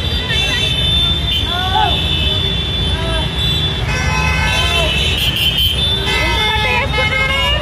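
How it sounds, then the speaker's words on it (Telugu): A heavy traffic jam at the Hyderguda junction, with engines rumbling and several horns tooting repeatedly, some long and some short, close and loud, while people talk over the din. "భారీగా ట్రాఫిక్ జామ్ అయింది."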